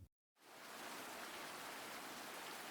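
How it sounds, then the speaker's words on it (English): Steady, dense hiss of heavy rain pouring down, loud and continuous after a brief moment of silence at the start. "It was pouring rain."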